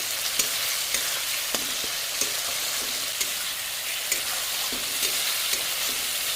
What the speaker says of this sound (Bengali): এবার এর মধ্যে টমেটো কুচিগুলো দিয়ে দিলাম, আর দিয়ে দেবো 2 চামচ লবণ, 1 চামচ জিরে গুঁড়ো দিয়ে এটাকে ভালো করে কষিয়ে নেব